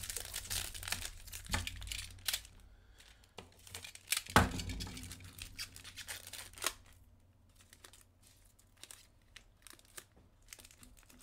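Crinkling plastic wrapper as a hockey card pack from a mixed box is torn open and handled, with scattered crackles and rustles, close and fairly quiet, one sharper rip in the middle.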